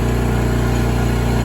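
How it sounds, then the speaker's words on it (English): A Stihl MS210 chainsaw engine idles loudly and close up as a steady, buzzing two-stroke drone with a constant pitch, cutting off abruptly at the very end. "so I turned the engine down"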